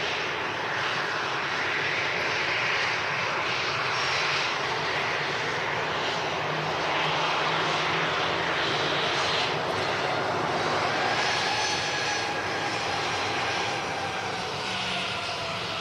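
Airliner engines roar steadily at Manchester Airport as an Air Berlin jet passes, a loud, continuous broadband rumble and whine that stays strong throughout with no talk.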